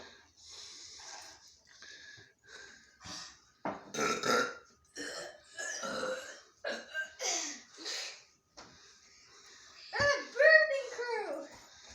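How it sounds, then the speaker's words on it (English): Boys let out loud, drawn-out burps after drinking soda, one after another, with children's voices chattering and laughing between them. "there's a thing I can do, and it's like the world record biggest burps."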